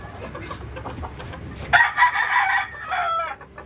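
A rooster crows loudly and close by at a fourth-floor poultry farm, one long drawn-out call rising over quieter farmyard background noise and faint distant bird sounds.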